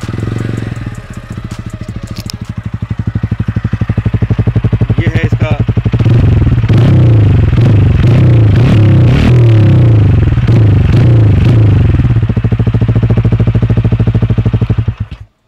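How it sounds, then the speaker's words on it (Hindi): A TVS Ronin motorcycle with an upswept muffler starts up and idles with a loud, deep, thumping exhaust note, revved in a series of blips close by, while someone talks over it. "let me start the bike and show you, you know, make you here कि ये"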